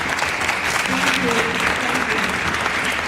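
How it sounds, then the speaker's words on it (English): An audience applauds a woman police captain at a Houston Police Department citywide meeting on its homeless outreach team, a steady dense wash of many hands clapping indoors, with faint voices mixed underneath. "Let's give her a round of applause."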